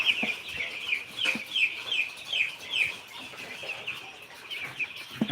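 Eight-day-old broiler chicks peep in a crowded chorus, a steady series of high, repeated chirps close by, rising and falling in loudness without any talking.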